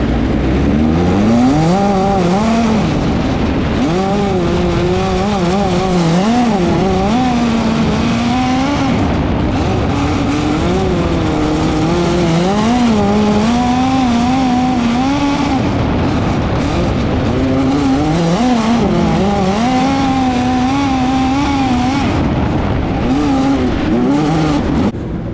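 Race car lapping a track during a practice day, recorded onboard: a loud, continuous engine drone rises and falls through repeated acceleration and deceleration, with occasional tire noise and no speech.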